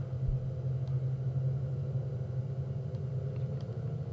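A Cessna 210 piston engine holds a steady run-up in the X-Plane 11 flight simulator, with a continuous low droning rumble at even loudness and no talk.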